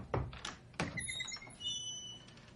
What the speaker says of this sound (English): someone starts knocking at the door